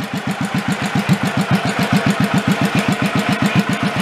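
An old Batmobile's engine, left for 40 years under a tree, turns slowly at low RPM with a steady, evenly spaced chugging pulse of rapid loud thumps, close up and alone.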